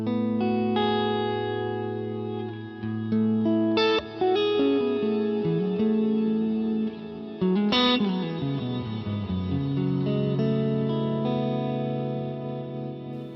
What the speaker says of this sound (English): So we've got over here the Nimbus Stratus reverb.